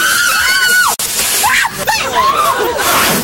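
People screaming in fear during a magic demonstration on a television show, with loud, sustained high shrieks rising and breaking off, a brief cut near the start, then more frightened cries and yelps.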